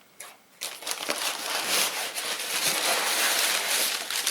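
Packing paper inside an Amazon shipping box crinkles and crumples loudly and close up as it is pulled out, in a dense, continuous rustle after a few sharp opening crackles, with no talk.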